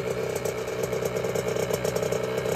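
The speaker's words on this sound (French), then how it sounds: "Il y a sa moto qui vient de sortir." A motorcycle idles in a garage, a steady, close mechanical rumble with a light rattle running evenly throughout.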